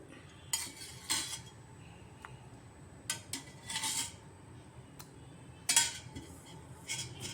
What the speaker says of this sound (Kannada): ಇವಾಗ ಎಲ್ಲ ಮಿಕ್ಸ್ ಮಾಡಿ ಕಲಿಸ್ತೀನಿ